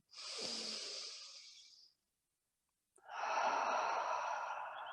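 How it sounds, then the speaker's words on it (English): Close, clear yogic breathing during a gentle floor session: one long, airy inhale that fades out, a brief silence, then a second fuller, steady breath that continues to the end. "Sacral chakra, breathe in."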